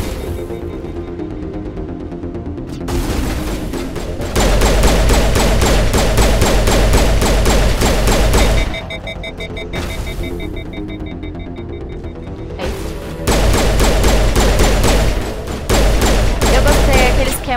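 Sustained bursts of rapid weapon fire in Mass Effect Legendary Edition, loud and dense, with brief pauses between long volleys and faint talking underneath.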